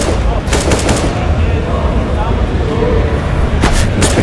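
Desert Eagle pistol shots in Counter-Strike: Global Offensive during a UK esports match, a few sharp cracks near the start and again near the end, set against a dense bed of game noise and ongoing commentary.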